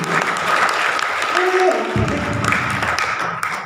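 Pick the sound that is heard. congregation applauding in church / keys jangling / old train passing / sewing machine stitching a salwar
congregation applauding in church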